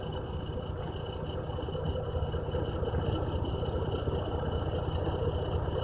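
A Volvo truck's engine idling just after start-up, a steady low rumbling drone with an even mechanical pulse that holds constant throughout, close and continuous with no talk.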